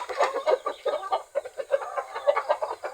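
Several chickens clucking close by, a busy run of short, repeated clucks and chirpy calls overlapping one another.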